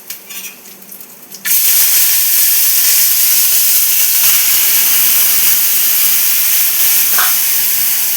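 Tempering spices for dal hitting hot oil with a sudden loud hiss, then a continuous bright sizzle that stays strong and steady after a few quieter clinks at the start.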